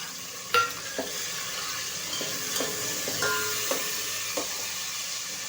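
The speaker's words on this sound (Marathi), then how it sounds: "आता आपण ह्याच्यामध्ये टोमॅटो टाकूया।" Tomatoes frying and being stirred in a pan for masala pasta, with a low sizzle under repeated light clinks and scrapes of a spoon against the pan, one sharper knock near the start.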